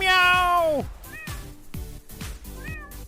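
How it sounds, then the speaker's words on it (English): A video game cat in a judge simulator meows several times, a long drawn-out meow followed by shorter repeated meows, loud and close, with some voice in the background. "The cat can meow!"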